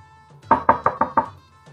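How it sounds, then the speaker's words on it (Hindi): Five quick, evenly spaced knocks rap on a door, close and clear, with a faint murmur of background sound before and after. "बाहर दरवाजे पर दस्तक होती है।"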